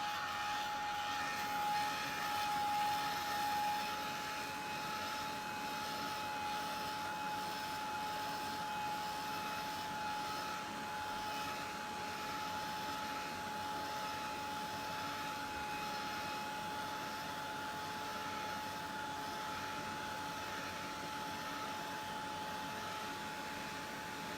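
A handheld heat tool blows steadily to dry a freshly laid layer on a craft journal page, a continuous loud whirring hiss with a high whine that holds unchanged throughout, with no talking.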